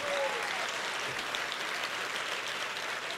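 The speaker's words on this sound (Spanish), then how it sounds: "Si tú quieres, aplaude y si no, no." A church congregation applauding during a pastor's sermon, a steady, dense wash of clapping at moderate level that continues unbroken, with a brief voice near the start.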